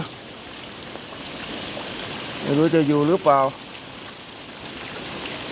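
Strong water rushes past in front of a home where fish are trapped, a constant broadband wash that runs throughout, with a voice speaking briefly in the middle.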